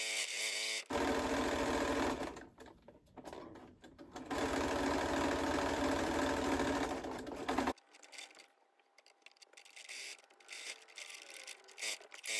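Sewing machine stitching around the outside edge of a fabric advent calendar, a steady fast mechanical whir running in two long bursts with a brief pause between, then quieter handling noises.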